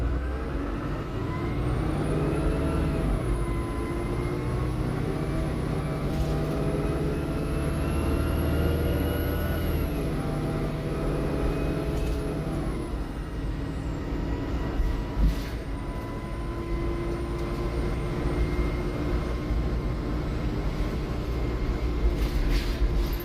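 An ADL Enviro300 bus with an Allison automatic transmission pulls away, its diesel engine droning loud and close, pitch rising through each gear then dropping at the shift changes, with no fifth gear reached.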